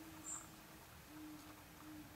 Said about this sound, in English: Big horned owls are going crazy out there in the woods.